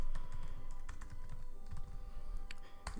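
Typing on a computer keyboard while entering values into a Java program, a quick, uneven run of close, crisp key clicks with no talk.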